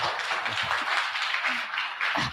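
An audience at a talk claps together in a dense, steady round of applause lasting a couple of seconds.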